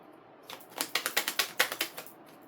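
A deck of oracle cards is shuffled up close in a quick run of about a dozen crisp, even riffling snaps, with quiet before and after.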